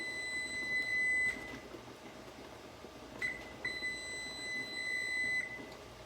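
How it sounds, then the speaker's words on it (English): A kitchen timer going off while spicy red pepper jelly cooks, giving steady high-pitched electronic beeping in two runs separated by a short pause, fairly quiet over a low hum of room noise. "the timer has gone off"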